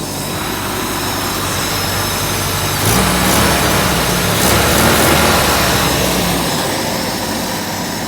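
A 1994 Toyota Mighty-X pickup's carburetor engine idles steadily up close, with a smooth, even drone. Midway the revs rise slightly for a moment, then settle back to idle.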